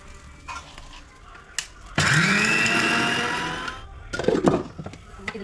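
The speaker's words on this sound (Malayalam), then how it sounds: "സോ നമുക്കിതൊന്ന് അരയ്ക്കാം." Kitchen mixer grinder blending chickpea chutney, a loud steady motor whine running for about two seconds and then cutting off, with brief handling clatter and faint background sounds around it.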